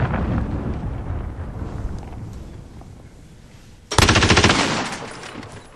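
An MG34 light machine gun in a war video game lets off a rumbling spray of shots that fades, then a sharp, loud, rapid burst of close fire cuts in near the end.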